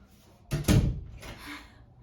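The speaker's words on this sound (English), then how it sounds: "close the door." A door closes indoors: a single fairly loud thud, followed by a short rattling tail that fades within about a second.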